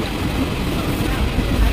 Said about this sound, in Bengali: ট্রেন একদম ছেড়ে দিয়েছে